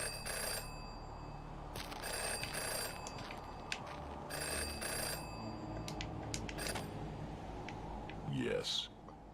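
A telephone rings in the detective video game Jenny LeClue, repeated short bell bursts at an even rhythm over soft background music, with a voice speaking as the ringing continues.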